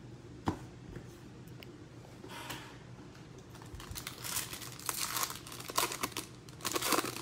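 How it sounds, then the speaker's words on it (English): A trading card being slid into a plastic sleeve: close, quiet crinkling and rustling of thin plastic in short irregular bursts that grow busier toward the end. "Let's put this one in a sleeve."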